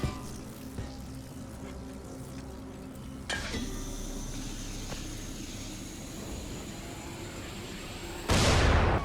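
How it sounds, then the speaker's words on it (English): A propane tank set off by an electric puddle in Dying Light, with a steady crackling electrical sizzle and hum building up before a sudden loud burst near the end. "Electric puddles can trigger propane tanks."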